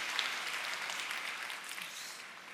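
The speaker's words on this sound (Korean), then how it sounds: "우리 큰 박수 한번" Applause from an audience at a Korean business lecture, a soft continuous wash of many hands clapping at a distance, steady and gradually easing.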